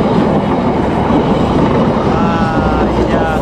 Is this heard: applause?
no